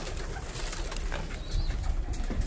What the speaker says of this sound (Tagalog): mapakain itong mga kalapate.